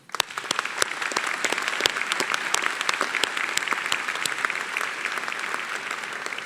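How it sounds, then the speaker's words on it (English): Audience applause at a medical school white coat ceremony, a steady, dense clapping from a large crowd that swells in and holds throughout, with a few sharper individual claps standing out near the front. "Let's express our gratitude with a round of applause for the family, friends, and significant others in the audience today or watching online"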